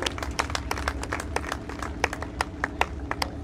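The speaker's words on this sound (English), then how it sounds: "Give him a round of applause, ladies and gentlemen." A crowd applauding from a distance at Winchester Speedway during a dirt late model race, with many scattered hand claps over a steady low rumble of background noise.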